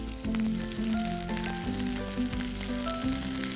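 Sliced onions and slit green chilies fry in hot oil in a pan, a steady close sizzle with faint clinks and stirring beneath, no talk.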